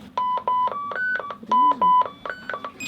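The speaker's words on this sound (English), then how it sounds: "You're going to test the DSC alarm." A marine DSC radio alarm on a sailboat sounds a rapid series of pulsing beeps in shifting tones, repeating insistently over a low hum during a test.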